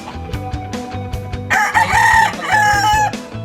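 A talisay gamefowl rooster from Binsang Game Farm in Ilocos crows loudly and close, one long drawn-out crow over a backdrop of steady clucking and other farm fowl.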